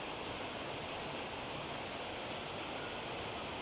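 A waterfall in Absam, Tirol, Austria pours in a constant, broadband rushing roar, steady and even throughout with no voices over it.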